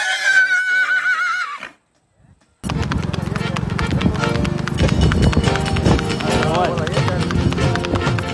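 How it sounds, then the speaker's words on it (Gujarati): A horse's hooves clip-clop in a quick, steady rhythm over a rural farm track. A short voice and a silent pause come first, then dense, loud hoofbeats continue to the end. "ઘોડો"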